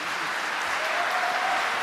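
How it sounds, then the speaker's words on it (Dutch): Thunderous audience applause for the performers at a Christmas benefit concert for Ukraine, a dense continuous roar of clapping filling the hall without a break. "geef hen nog een daverend applaus"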